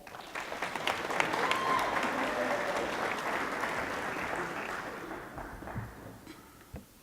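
Audience applause fills a community awards ceremony as the Supreme Winner, Koka Kai, representing Invercargill City and Southland District, is welcomed on stage; steady dense clapping holds for several seconds, then tapers off near the end.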